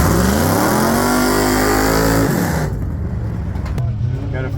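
A 1968 Ford F100 pickup with a 460 engine, ported heads with bigger valves and headers, revs hard and loud up close, the pitch climbing steadily before dropping off to a rough, loping idle.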